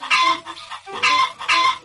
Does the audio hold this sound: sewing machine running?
no